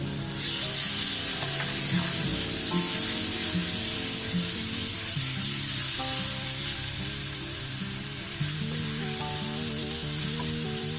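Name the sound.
minced garlic sizzling in hot oil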